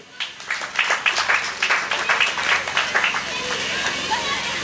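Audience clapping at a student cultural association gathering at an agribusiness institute, rhythmic hand claps rising and falling with crowd murmur and voices mixed in, moderately loud in a reverberant hall.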